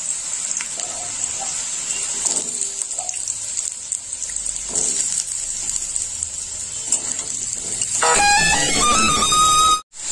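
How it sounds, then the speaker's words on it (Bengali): Potato pieces fry in a generous amount of oil in a wok, giving a steady, close hiss and sizzle that turns into a louder, harsher crackle near the end before stopping briefly. "কড়াই তেল দিয়ে নিলাম, একটু বেশি করে তেল দিয়ে আলুটা দিয়ে দেব। আলুটা ভালো করে ভেজে নেব।"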